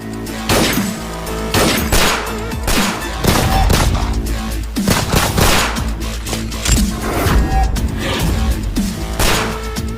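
A shootout erupts in rapid bursts of gunfire. Sharp, loud cracks arrive in clusters and overlap into a dense, chaotic barrage that runs throughout.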